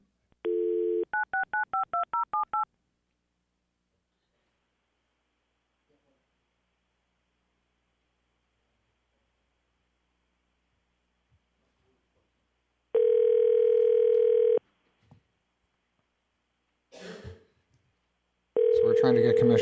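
A rapid run of about eight touch-tone dial beeps sounds on a phone line during a commission meeting call, later followed by a long steady dial tone, brief noises and another tone.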